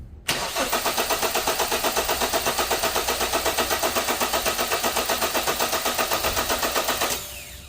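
Car engine cranking on the starter during a starting-system voltage drop test: a rapid, steady rhythmic chug of the starter motor that continues for about seven seconds before stopping, close and alone with no talk.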